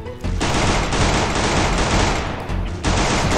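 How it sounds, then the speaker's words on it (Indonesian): Rapid, loud automatic gunfire in a shooting video game, a dense near-continuous burst lasting a few seconds with brief gaps near the start and end, close and dominant. "Makan tuh headshot Ronaldo ya"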